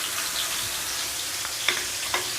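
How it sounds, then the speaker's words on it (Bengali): Rice sizzling as it fries in a pan with salt and a little turmeric, a steady soft hiss with a couple of sharp stir clicks near the end, no talk. "চালটা আমার ভাজা হয়ে গেছে।"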